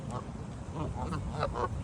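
Several ducks quack in short bursts at a park amid a busy, noisy outdoor background with faint voices.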